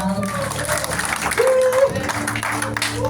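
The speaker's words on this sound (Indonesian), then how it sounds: "tepuk tangan dulu buat Tuhan." Congregation applause at a youth revival worship service in Jakarta, a dense wash of clapping under ongoing music or tones, moderately loud and steady throughout.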